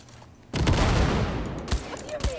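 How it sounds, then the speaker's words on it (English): A dense volley of gunfire breaks out during Cyberpunk 2077 gameplay, loud rapid shots following a quiet lead-in and continuing with sharp cracks to the end. "Heard shots."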